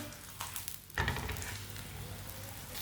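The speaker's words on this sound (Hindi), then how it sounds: "2 मिनट तक इसे पकने देते हैं, बाद में इसे उल्टाते हैं।" A stuffed mustard greens paratha sizzles in ghee on a hot griddle, a close, steady hiss of frying after a brief clatter, with no talk.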